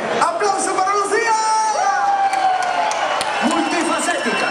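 A crowd at an outdoor orchestra concert in Castiñeiriño, Santiago de Compostela, whoops and cheers for Lucía, loud and continuous with shouts and voices mixed in.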